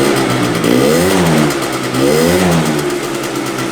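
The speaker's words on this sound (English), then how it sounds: "Your boy's first ever electric starting bike right here, baby." A mint Honda DIO Elite 50cc two-stroke scooter engine turns over on its electric starter and catches, its close, buzzing motor rising and falling through two revs before settling into a steady run, with no talk over it.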